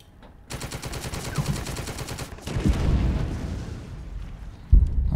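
A vehicle turret in the game The Troop fires a rapid machine-gun burst, loud and continuous for a couple of seconds, followed by a rumbling blast and a sharp thud near the end.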